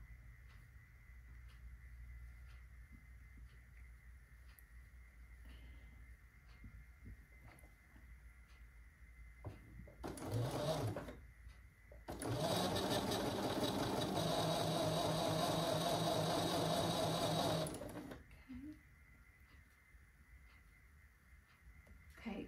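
A sewing machine stitches a quilt block a quarter inch from a drawn diagonal line: a short burst of motor whir, then a longer run of about five seconds, against a quiet background.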